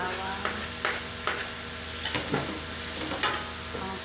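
Garlic frying in a pan for sauteed sardines with gourd, a continuous close sizzle broken by regular scraping stirs about every half second, with faint talk in the background.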